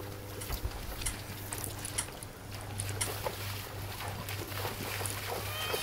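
A horse trots through water outdoors, with splashing steps mixed with wind rush and a low steady hum, at moderate distance and no talking.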